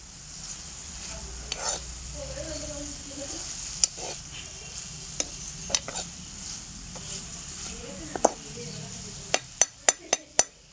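Beans and brinjal sauté in coconut oil in a pan, giving a soft continuous sizzle with occasional stirring scrapes, and a quick run of sharp utensil clicks near the end.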